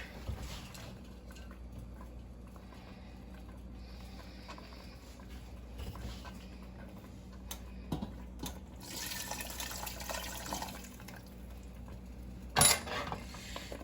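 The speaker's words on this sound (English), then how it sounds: "I'm about to actually dump in the clam water from the vegetables and incorporate that" Clam water drained from vegetables is poured into a pot of clam chowder. It makes a quiet, wet splashing that swells for a few seconds amid faint kitchen clatter, ending with a sharp knock.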